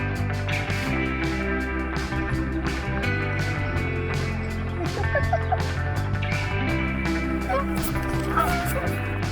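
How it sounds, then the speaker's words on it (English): Honking and clucking calls from a group of Canada geese along the Deschutes River, close by and overlapping, with a voice speaking over the birds throughout. "There's Canada geese everywhere"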